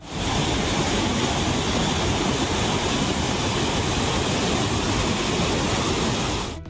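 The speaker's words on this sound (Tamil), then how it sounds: "மேற்கு தொடர்ச்சி மலைப்பகுதிகளில் பெய்த தொடர் கனமழை காரணமாக தென்காசி மாவட்டம் குற்றாலம் மெயினருவியில் வெள்ளப்பெருக்கு நீடிக்கிறது." Courtallam main waterfall in Tenkasi district, flooding after heavy rain in the Western Ghats, gives off a loud, unbroken roar of heavy falling water that fills the whole stretch without any voices.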